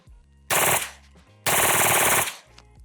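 An MP5 submachine gun fitted with a Geissele trigger, firing on the active reset setting: two loud close bursts of rapid fire, each about half a second to a second long, separated by a brief pause.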